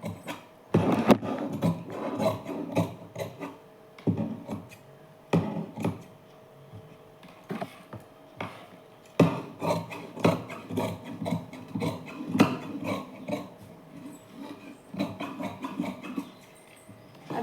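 Wood being cut by hand, steady rough strokes in bursts with short pauses between them, fairly close and moderately loud, with no talking.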